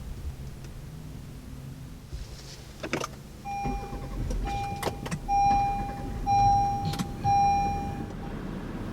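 2019 Honda Pilot and 2019 Acura MDX engines started by push button, a starter crank and catch followed by a steady idle hum with faint electronic chimes and tones in a quiet cabin.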